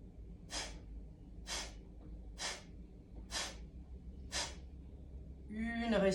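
Guided breathing exercise in a series of breath bursts: five sharp, forceful breaths close to the microphone at an even pace about a second apart, followed by a voice starting to speak.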